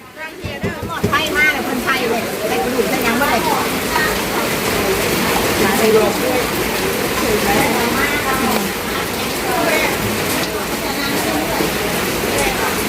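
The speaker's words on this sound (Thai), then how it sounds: "ช่วงนี้ฝนตก" Heavy rain pours down during a severe storm at a funeral gathering in Thailand, a dense, steady, loud hiss of water lasting throughout, with people's voices talking over it.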